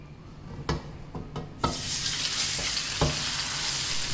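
Marinated fish drops into hot oil with a sudden loud hiss that settles into steady, close sizzling. A few sharp knocks come before it, and a clink follows.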